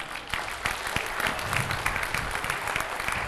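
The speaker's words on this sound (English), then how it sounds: "Give them a round of applause." An audience at a high school track and field award assembly gives a steady round of applause, a dense crackle of many hands clapping that holds at an even level throughout.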